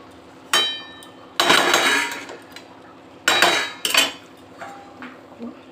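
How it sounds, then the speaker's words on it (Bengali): Metal clanks and clinks as lids go onto pots in a home kitchen, one covering a cabbage curry and another over boiled milk: several sharp, loud bursts with ringing tails, separated by quieter pauses, no talking. "এটা ঢাকা দিয়ে দিলাম দুধটাও হয়ে গেছে দুধটাও আমি এখানে ঢাকা দিয়ে দিই"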